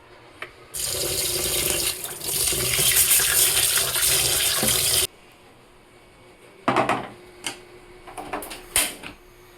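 Tap water runs in a steady, close gush for about four seconds while rice is washed before cooking at home, then cuts off and gives way to scattered splashes and sloshing as the grains are rinsed.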